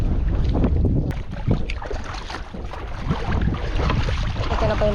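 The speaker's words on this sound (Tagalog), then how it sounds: "Lakas po ang hangin" Strong wind gusts at sea beside a small fishing boat, a loud, continuous low buffeting roar with rushing, splashing texture that never lets up across the whole stretch.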